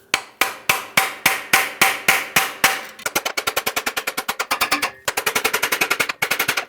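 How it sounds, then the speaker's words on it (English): Rapid hammer taps on a stuck starter motor of a 2006-2011 Honda Civic come in bursts, slower at first and then quicker, with brief breaks between runs of sharp clanks. "I'm gonna take a hammer and a pry bar and just try to break it loose"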